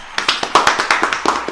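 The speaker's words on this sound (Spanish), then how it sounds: "Aplausos." A burst of hand clapping, individual sharp claps in an irregular patter, close and fairly loud, with no voices.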